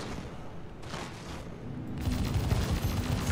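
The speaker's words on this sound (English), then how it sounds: "there's a guy shooting at us" Enemy gunfire during an aerial combat game, a steady rattle of shots that grows louder and denser after a couple of seconds, with no talking over it.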